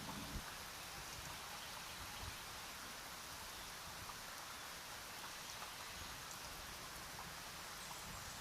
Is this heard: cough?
no